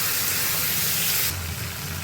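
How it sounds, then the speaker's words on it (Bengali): Ground spice paste fries with potato and papaya in a pan, a steady broad sizzle and hiss that runs throughout and eases slightly near the end, with no speech. "মশলা ভাজা হয়ে গেছে"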